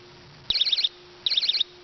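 An off-grid perimeter tripwire alarm gives two short, shrill warbling electronic bursts, each under half a second and close, with quiet in between.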